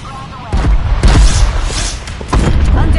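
An experimental missile weapon exploding in a video game, a series of heavy booming blasts in quick succession, loud and close, with a rumbling low end between hits.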